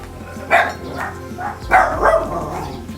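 A dog barks several times in short, uneven bursts, fairly close, with a quieter whimpering yip between barks.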